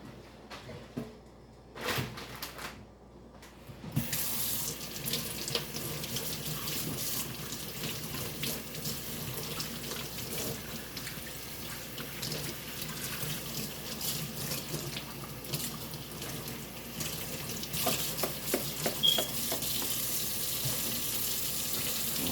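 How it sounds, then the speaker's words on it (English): Sink tap water runs steadily while food is rinsed under it to wash out seeds, a continuous hissing splash at close range with a brief pause near the start and occasional clatter. "I'm going to go wash it again to make sure I get all the seeds out."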